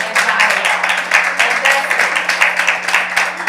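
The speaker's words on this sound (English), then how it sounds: "Let's give the brother a round of applause" A live audience gives a speaker a round of applause at a youth huddle event, with dense, close, loud clapping that keeps an irregular rhythm and runs steadily for the whole stretch.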